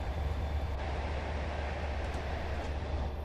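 Train Simulator 2014 Class 67 EWS locomotive braking to a stop on the Oxford to London route, a steady close low rumble with faint wheel and track noise continuing throughout.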